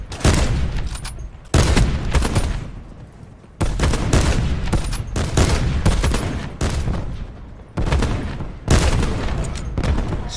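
Rapid bursts of sniper and automatic gunfire in a team shooter video game, loud and close, coming in several dense volleys with short gaps between them and no talk over them.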